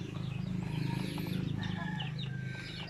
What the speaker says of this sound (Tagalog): nangingitlog na yung mga inahay natin